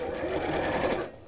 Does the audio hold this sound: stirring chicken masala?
no